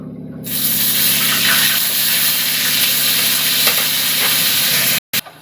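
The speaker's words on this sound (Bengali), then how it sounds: "এই তেলেতে দিয়ে দেবো পটলগুলো ধুয়ে রেখেছিলাম," Pointed gourd (potol) pieces drop into hot oil in a Bengali kitchen and sizzle loudly and steadily, a dense close frying hiss that holds for about five seconds before cutting off abruptly.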